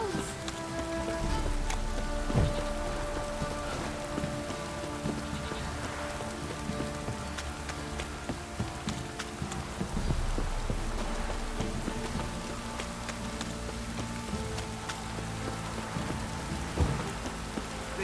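Steady rain pours down in The Witcher 3, a dense, even hiss of drops hitting surfaces, with occasional louder taps, continuous and close throughout.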